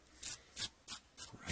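A dubbing brush rakes out fly tying dubbing in short scratchy strokes, five quick close rasps with brief pauses between, alone.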